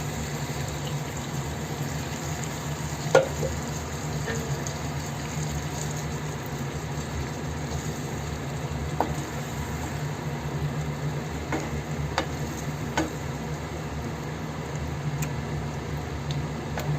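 Cashew and tomato paste poured into a pan for chicken curry, a steady watery hiss and low bubbling with a few faint clicks, continuous and close, no talking.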